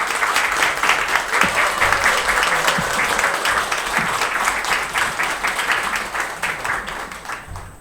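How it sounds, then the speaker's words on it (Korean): An audience at a talk concert gives a speaker a big welcoming round of applause, with dense, loud clapping that carries on steadily and tapers slightly toward the end. "특별히 큰 박수로 함께 해주시기 바랍니다"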